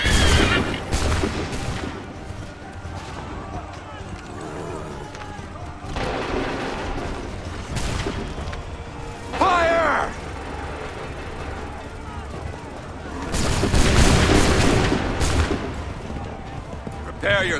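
Musket volleys in the video game Assassin's Creed III, during the battle of Lexington and Concord: rolling, heavy bursts of massed gunfire and booms that swell and fade, with shouting voices among them.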